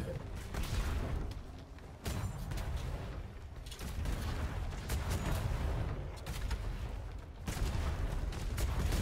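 Cannons fire from a fort in a pirate-style naval video game, several heavy booms arriving a couple of seconds apart over continuous rumbling, with a player's voice faintly present.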